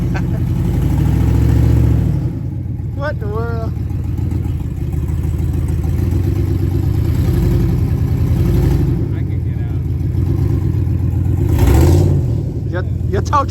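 A stuck work truck's engine roars and revs in long surges as it rocks back and forth trying to climb out of a hole, loud and close, with engine drone and clatter and a voice talking briefly over it.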